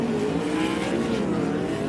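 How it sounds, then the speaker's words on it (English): Sprint cars race on a dirt track at Perth Motorplex in Australia, their engines a continuous, loud, droning buzz with several cars blending together, steady throughout with no pauses. "Cars now buzzing in that surface just a little bit more"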